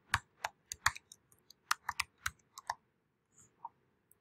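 Someone types a file name on a computer keyboard: a quick run of about a dozen sharp, close key clicks in uneven bursts, then a few softer taps and a pause.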